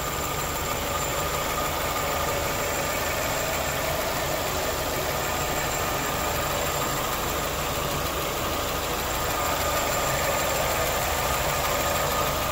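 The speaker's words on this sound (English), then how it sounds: "Let me not talk so you can listen to the engine." A 2016 Nissan Rogue SV four-cylinder engine idles steadily and close by, a constant low rumble with a faint rhythmic ticking and no voices over it.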